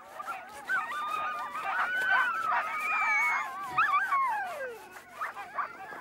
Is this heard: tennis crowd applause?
no